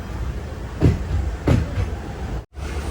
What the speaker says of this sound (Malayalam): തിരുവാരൂർ ജംഗ്ഷൻ റെയിൽവേ സ്റ്റേഷനിലേക്ക് ഇതാ നമ്മുടെ ട്രെയിൻ എത്തിക്കൊണ്ടിരിക്കുകയാണ്